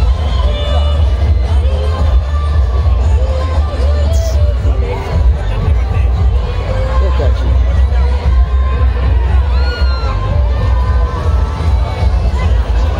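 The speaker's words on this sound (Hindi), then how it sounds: "बहुत भीड़ है" A dense festival crowd at a Kali Puja celebration, a loud continuous roar of mingled voices, shouts and cheers with no pause.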